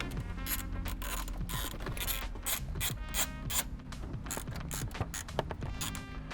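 Rapid ratchet-wrench clicking backs off a 10mm grounding bolt while installing lit-logo shifter trim on a 2008-2021 Subaru STI, the mechanical clicks repeating steadily and close up over a continuous background bed.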